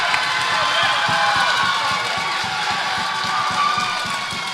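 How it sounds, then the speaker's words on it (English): Crowd cheering at a packed women's volleyball match in the Lancer Dome arena: a steady, loud roar of shouting and cheering voices fills the gym continuously, with scattered claps. "I definitely love to see the crowd here."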